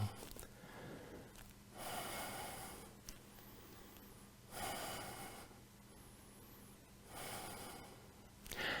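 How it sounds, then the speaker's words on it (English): A person holding a yoga pose during a vinyasa flow session breathes in slow cycles, each long audible breath rising and then fading, three of them in a row, close and quiet. "Keep breathing here."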